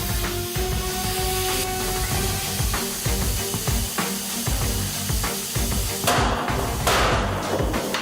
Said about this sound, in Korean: 고강도 철제를 잘라내기 위해 플라스마 절단기를 사용해야 하는데요